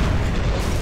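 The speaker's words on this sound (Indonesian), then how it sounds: "Ada petasan." A single loud, deep boom of a firecracker in the PS2 game Rampage: Total Destruction fills the short moment, a heavy blast with a rumbling body.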